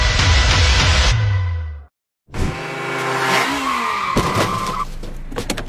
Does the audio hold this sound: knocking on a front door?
no